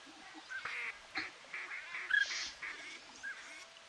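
Several mallards and other ducks call in repeated short bursts during a duck hunt, some sharp, honking notes standing out, at moderate distance against a quiet background.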